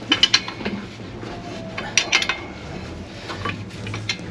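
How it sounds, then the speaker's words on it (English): Stubborn rusted U-bolts on an old Ford are wrenched, with irregular metallic clinks, ratchet clicks and scraping taps, fairly close but not loud, over a faint low background hum. "These U-bolts are not coming off very easy."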